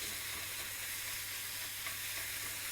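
Bacon sizzles in a hot frying pan with a steady, dense crackle and hiss that stays even throughout, and no talking.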